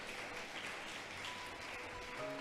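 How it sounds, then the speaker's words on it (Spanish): Faint, distant applause from a church congregation, a soft continuous patter of clapping lasting a couple of seconds. "¿Cuántos le aplauden al Señor"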